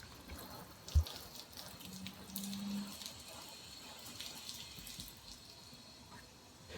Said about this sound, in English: I'm going to continue to beat these up with free-flowing water